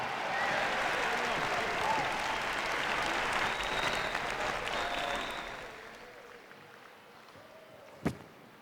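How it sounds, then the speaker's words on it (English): An audience applauds skaters leaving the ice at an ice skating show in an arena, a full, steady round of clapping that fades away over the last few seconds, ending with one sharp knock. "I think they deserve a really nice round of applause as they leave the ice"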